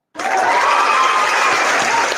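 Soundboard applause effect on a TikTok live stream, starting abruptly and holding as a loud, dense burst of crowd clapping and cheering for about two seconds.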